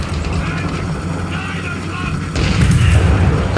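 Gunfire and heavy booms in the tank combat video game War Thunder, loud bursts that thicken in the last second over a constant low engine rumble.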